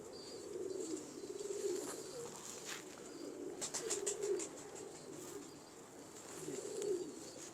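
Pigeons cooing nearby, soft low rolling coos repeating in slow waves over a quiet background, with a brief burst of sharper clicks partway through.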